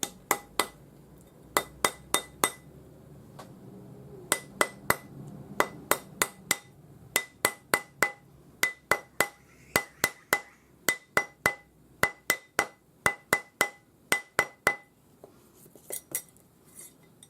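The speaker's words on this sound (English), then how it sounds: "put it on your ring mandrel, round it up with your rawhide or plastic hammer" A rawhide or plastic hammer rounds a ring on a steel ring mandrel in quick bursts of sharp, ringing metallic taps, grouped in clusters of three to six strikes with short pauses between, close and clear.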